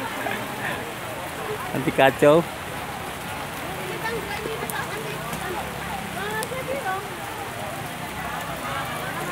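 Rain pours steadily onto surfaces at an outdoor traditional village market in the late afternoon, a dense even hiss throughout, with brief voices and a short clatter near the start.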